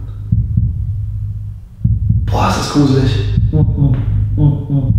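A person's own heartbeat inside a dark water tank: steady, muffled low thumps pulse throughout while the person speaks briefly over them.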